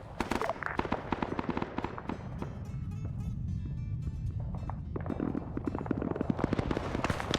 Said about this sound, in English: Start popping grenades.